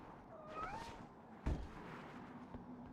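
Kitten meows from the Superman Returns video game, a few thin high mewing calls early on over a busy game soundscape with a low steady hum and a brief thump midway.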